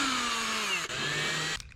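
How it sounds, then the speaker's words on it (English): Power drill with a countersink bit boring holes while a closet is built in a DIY Sprinter camper van, a loud whining motor whose pitch slowly sinks under load, then cuts off near the end. "use the countersink drill bit to create that hole"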